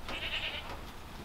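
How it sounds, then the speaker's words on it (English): A single Kiko goat bleats nearby under a lean-to, a short wavering cry over soft outdoor background noise. "The goats are all kind of under this lean-to because they don't like to get wet"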